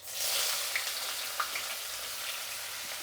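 Onions drop into hot oil already holding mustard seeds and cumin, and a faint, even sizzle and crackle follows with a couple of small pops. No one talks.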